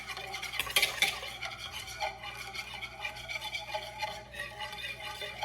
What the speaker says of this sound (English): So I'm gonna take that and whisk it up.